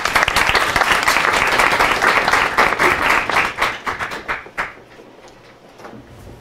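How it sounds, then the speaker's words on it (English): An audience claps to welcome speaker Valerie Cleland at a talk on ships and oil spills: dense, loud applause from a roomful of people that holds steady, then thins into scattered claps and fades out. "Please give a warm welcome to Valerie Cleland."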